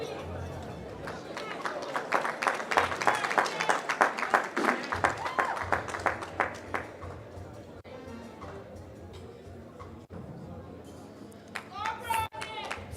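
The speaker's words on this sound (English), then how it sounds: "Give her a clap" At a staff awards ceremony, a crowd claps for an award recipient, the rhythmic clapping building and holding for several seconds under chatter before fading into the room noise as voices continue.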